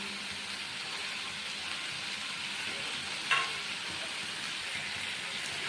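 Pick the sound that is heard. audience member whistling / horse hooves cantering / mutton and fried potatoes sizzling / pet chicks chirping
mutton and fried potatoes sizzling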